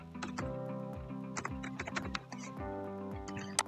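Steady typing on a computer keyboard, with rapid close clicks and a few sharper key presses, over a faint constant hum and with no talking.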